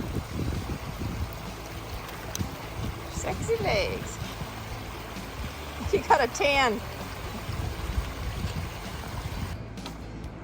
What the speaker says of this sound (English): First little Whitewater River crossing.